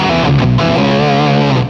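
Thick electric guitar chords distorted by a RAT distortion pedal ring out with a heavy low octave underneath, loud and sustained, with no voices.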